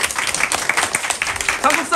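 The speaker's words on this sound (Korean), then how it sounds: "박수" A Korean history class gives a short burst of applause, brisk claps from students close by, mixed with voices talking.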